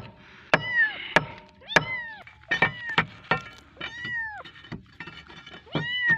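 Cat trapped in a concrete pole mewing repeatedly in short rising and falling cries, mixed with sharp chopping knocks on concrete during the rescue, fairly close.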